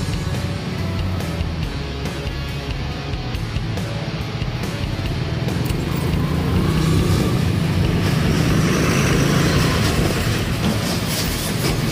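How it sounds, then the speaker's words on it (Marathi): Road traffic stuck in a jam rumbles steadily and continuously, with dense engine drone and road noise, close and loud throughout with no talk. "मग काय करणार आता, पूर्ण ट्रॅफिक जाम झालं आहे."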